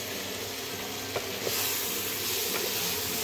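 Squash vegetable curry in a pan after simmering covered on low heat, stirred gently: a soft continuous sizzle with a few scraping stroke sounds, close and fairly quiet, with no voices.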